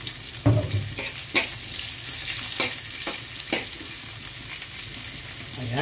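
Chopped garlic and onion sauté in a hot pan with a steady close sizzle, punctuated by several sharp clacks and scrapes of a spatula against the pan, with no talking.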